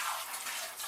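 Water runs from a kitchen tap as a container is rinsed, a brief, steady splashing gush up close.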